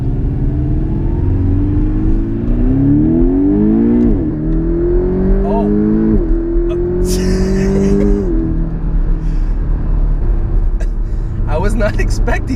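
A Porsche 718 Cayman GTS with a 2.5-litre engine accelerates hard in Sport Plus mode, its loud engine note climbing through several rising gear pulls with shift breaks, heard from inside the cabin while people talk over it.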